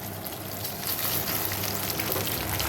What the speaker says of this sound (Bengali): কুমড়ো ফুলের বড়া ভাজছি